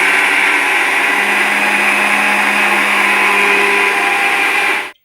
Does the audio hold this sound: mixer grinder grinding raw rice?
yes